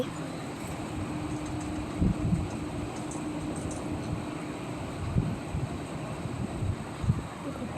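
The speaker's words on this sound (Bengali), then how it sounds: "ট্রেন চলে গেল, সুন্দর হয়ে গেল।" A train rumbles past at a moderate distance with a low, continuous roar and occasional thumps of the wagons. Light wind buffets the microphone throughout.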